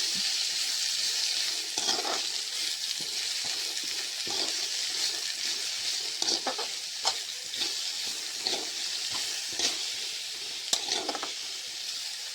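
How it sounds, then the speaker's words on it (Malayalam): Onions sauté in coconut oil with mustard seeds, a steady close sizzle with scattered crackles and pops and occasional stirring scrapes, continuous throughout with no talk. "ഇനി ഇതിലേക്ക് ഉള്ളി അങ്ങ് ചേർത്ത് കൊടുക്കാം ഉള്ളി ശേഷം നന്നായിട്ട് ഇളക്കി കൊടുക്കാം"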